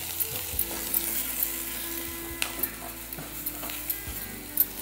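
Potatoes frying in masala in a pan while a spoon stirs them, with soft sizzling under scattered scraping and clinking taps, close and moderately loud, no talking.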